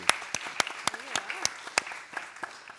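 A seminar audience gives a short burst of sparse applause, with individual claps distinct and irregular and a voice briefly heard among them.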